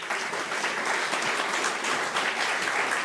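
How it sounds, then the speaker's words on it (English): Audience applause fills a hall during a territorial legislature's State of the Territory address, a steady dense clapping that stays loud and even for the full few seconds with no voices over it. "Please give him a round of applause."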